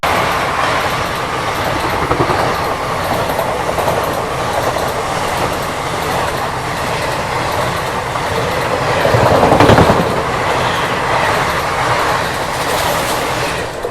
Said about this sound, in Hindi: तो अभी ये हम लोगों की ट्रेन को ओवरटेक मार के गई बेगमपुरा सुपरफास्ट, वाराणसी जम्मू तवी